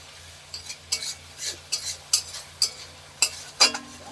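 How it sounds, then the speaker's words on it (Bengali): Spice masala with salt being stirred and fried in a pan for a meat curry: roughly ten distinct scraping clinks of a utensil against the pan at a steady, unhurried pace over a faint, low background hum, with no speech. "মশলাটাকে আগে ভালো করে কষিয়ে নিতে হবে"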